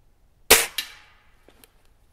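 A Gamo CFX .22 air rifle fires one sharp, loud crack, followed a fraction of a second later by a second snap, then a couple of faint clicks in near silence.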